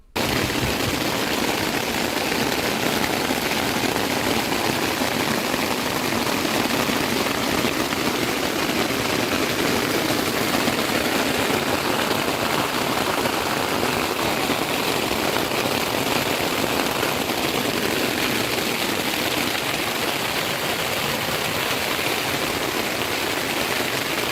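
Dense, continuous roar of heavy rain pounding on a tent, loud and unbroken throughout with no pauses.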